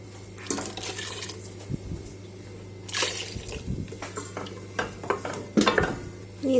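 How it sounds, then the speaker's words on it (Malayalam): A ground masala paste goes into a pan for Kerala crab curry and is stirred, with scraping and clinks of a spoon against metal over a faint sizzle and a steady low hum, in short uneven bursts. "ഇനി ഇതിലേക്ക് ഈ അരപ്പ് ചേർക്കുക."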